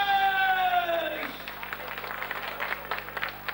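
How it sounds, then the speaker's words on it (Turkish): Applause and clapping from a crowd at a Turkish wedding ceremony in İsperih, a dense patter of many hands rising after a short musical tone fades, fairly loud and steady throughout. "alkış!"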